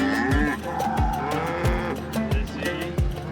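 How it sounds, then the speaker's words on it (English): Cattle on a South Dakota ranch lowing repeatedly, several deep moos in steady succession, close and loud, over a background hum of movement and vehicle noise on the grasslands. "they move more than 100 head of cattle across the grasslands"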